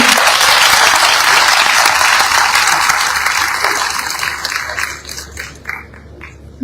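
An audience at a youth leadership event claps in dense, loud applause that holds steady, then thins into scattered claps and fades out near the end.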